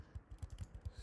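Typing on a computer keyboard, a quick run of about six or seven evenly spaced, soft key presses, close and fairly quiet with no voices.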